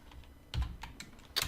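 Quick, quiet bursts of typing on a computer keyboard, a few irregular clustered keystrokes with short pauses between them, heard alone.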